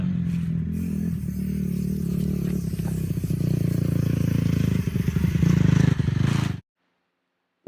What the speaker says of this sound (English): race it with Jack's bike to see how fast his bike is moving over the distance